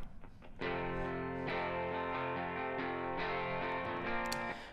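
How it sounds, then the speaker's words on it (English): Electric guitar part from the last chorus of a folk song, played through an amp with the room setting turned up, sounding as sustained harmonic chords that swell in after a quiet start and ring on steadily alone. "We do have some electric guitar coming in on the very last chorus."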